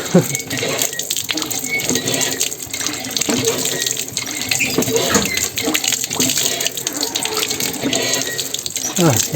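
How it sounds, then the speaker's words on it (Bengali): Cold water poured and splashing steadily over a heron's head and body to cool it off, a continuous close running-water wash with people talking softly underneath. "একটু চাপ দেওয়া করে ভিজাই দিই যে গরম একটু ঠান্ডা হোক"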